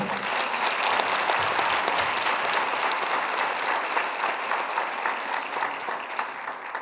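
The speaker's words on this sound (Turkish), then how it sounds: "kendisine tekrar alkışlamak istiyorum. Hep beraber." Sustained applause from a large audience at a university author event, a dense steady clatter of many hands clapping at once for several seconds.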